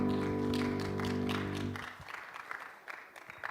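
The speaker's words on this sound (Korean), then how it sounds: "하나님께 감사와 영광의 박수 돌리겠습니다." Applause from a church congregation during a Sunday service, a soft, fairly distant burst of clapping that gives way to scattered taps as a sustained organ-like tone fades out.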